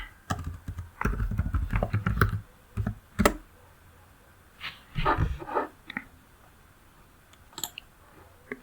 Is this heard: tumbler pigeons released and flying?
no